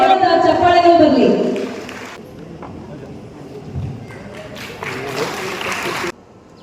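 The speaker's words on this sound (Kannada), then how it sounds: "ತಮ್ಮೆಲ್ಲರ ಜೋರಾದ ಚಪ್ಪಾಳೆಗಳು ಬರಲಿ." An audience claps loudly at the Vishwakarma Jayanti 2024 inauguration ceremony in Belagavi. Amplified speech comes first, then a steady wash of crowd clapping builds and holds before cutting off abruptly.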